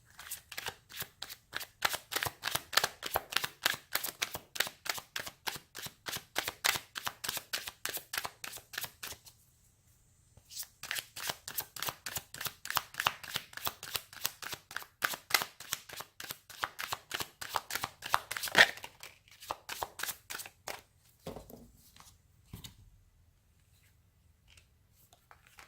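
Tarot cards are shuffled in a steady run of quick riffling flicks, pausing briefly around ten seconds before resuming and then trailing off into a few soft handling sounds.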